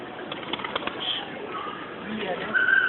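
A pigeon coos softly outdoors, low throaty notes under a person talking nearby, with some chirping birds in the background.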